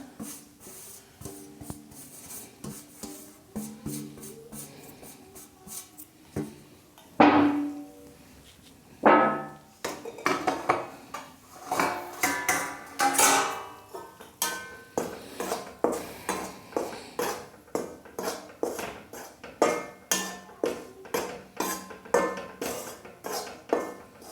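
Wheat flour roasting in a kadhai for til-gud laddu, with a spoon scraping and clinking against the metal in a steady rhythm of close, repeated strokes; no voices.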